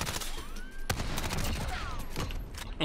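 Gunshots in a multiplayer console shooter, a dense volley of sharp cracks and bursts with sweeping whistling tones, loud and continuous throughout.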